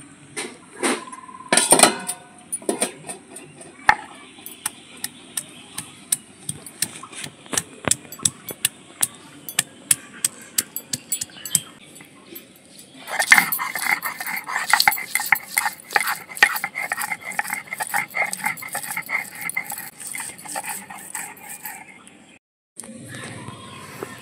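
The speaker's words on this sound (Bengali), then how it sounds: "আমি এদিকে দুটো বেটে নিই হলুদ আর থানকুনি পাতাটা।" Turmeric and thankuni leaves being ground into paste on a stone, giving repeated scraping and knocking strokes, irregular at first and then steadier and denser, close and fairly loud, in a home kitchen.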